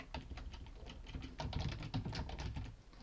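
Typing on a computer keyboard during a LabVIEW programming session, a fast, steady stream of soft clicking keystrokes, close and fairly quiet, with no talking.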